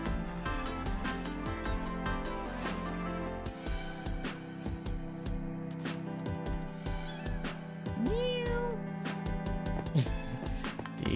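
A cat meows several times in a domestic room, with wavering, rising cries standing out over steady background music and household noise, fairly close and moderately loud.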